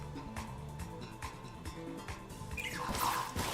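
The Water Gun attack from the Pokémon Violet video game plays as watery splashing and dripping blips over light game music, ending in a brighter gushing burst.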